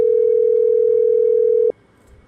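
WhatsApp call ringing tone on a phone, one long steady tone lasting about 1.7 seconds and then cutting off abruptly, heard alone at close range.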